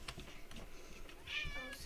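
A cat meows in the Spiral Knights online game, a short faint mew rising near the end over soft background game sounds and low murmurs.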